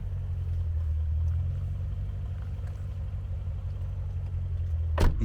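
A cold BMW M5 E39 V8 idles steadily with a deep, close rumble, its revs wavering slightly, before a brief sharp sweep near the end; no one speaks.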